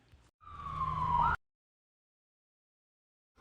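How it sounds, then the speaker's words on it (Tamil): An ambulance siren rises as a single loud wail for about a second, then cuts off abruptly, leaving silence. "ஆம்புலன்ஸ் வந்துட்டுக்கா."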